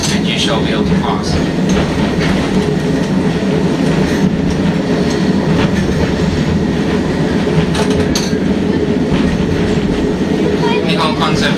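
A Wynyard Loop tram runs along the Wynyard Quarter tramway with a loud, steady rumble of wheels on rail, occasional clicks and faint squeals, under a voice talking over it.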